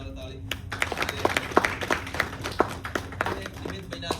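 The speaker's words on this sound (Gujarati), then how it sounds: "એની માટે એકવાર જોરદાર તાળી" An audience at a charitable foundation meetup claps for the event organiser, a burst of irregular applause rising and falling with scattered louder claps, while a voice speaks over the start.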